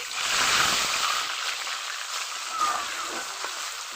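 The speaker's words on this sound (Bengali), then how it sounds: "এখন চিকেনগুলো ভেজে নিব।" Marinated chicken pieces fry lightly in hot oil, making a loud, close, steady sizzle that swells at the start and again midway.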